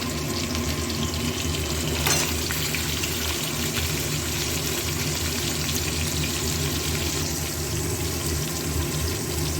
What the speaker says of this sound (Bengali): পেঁয়াজগুলো একটু লাল লাল করে ভাজা হয়ে এসছে